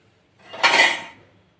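Rice being mixed with vangibath gojju on a plate, heard as a single short scrape and clatter against the plate that rises quickly and fades within about a second, close and fairly loud with no talking.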